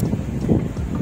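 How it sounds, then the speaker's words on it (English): Strong wind buffets the microphone outdoors on a pavement in a Welsh town, a brief steady rumbling gust with no talk. "Very windy."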